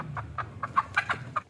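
A hen clucks in a series of short, agitated bursts while being caught, close and fairly loud against a low background hum.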